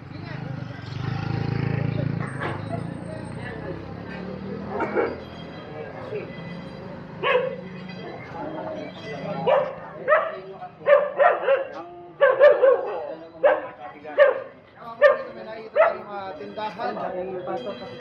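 Dogs bark repeatedly on a busy city street in Tondo, Manila, a series of sharp yips and barks of varying loudness, some close, mixed with people talking and street noise.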